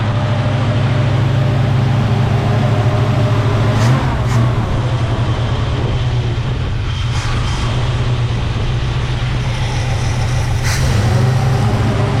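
A big block 454 engine in a C10 truck runs steadily on a new fuel pump, giving a loud, continuous low rumble with a few brief higher bursts, and no talk over it.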